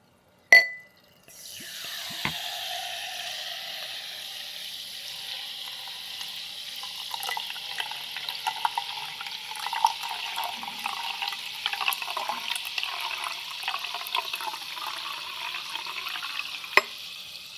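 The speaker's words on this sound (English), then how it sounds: "So let me satisfy you with the sound of Topo Chico." Topo Chico sparkling water poured into a glass: a short pouring splash, then a long steady crackling fizz of bubbles with scattered tiny pops and clinks, close and fairly quiet.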